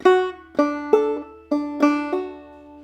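Clawhammer banjo plays a single measure of the tune Briarpicker Brown, including a hammer-on on the second string leading into the B part: six bright plucked notes in a steady, close, solo rhythm.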